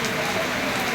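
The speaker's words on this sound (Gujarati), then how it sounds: "અહીંયા રણુજાની અંદર બહુ ધોધમાર વરસાદ ચાલી રહ્યો છે" Heavy monsoon downpour at Ramdevra (Ranuja) railway station, a loud, steady wall of rain hiss with no break, close and continuous, without clear speech.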